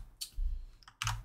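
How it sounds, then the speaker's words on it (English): Short bursts of key clicks on a computer keyboard, typed at an awkward angle, two quick clusters separated by a pause, close and quiet. "It's when I'm typing at a weird angle like this."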